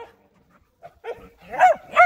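A dog barks twice in quick succession near the end, loud and close, after a few faint yips and whimpers in an otherwise quiet room.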